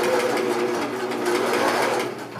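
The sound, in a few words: sewing machine stitching a face mask seam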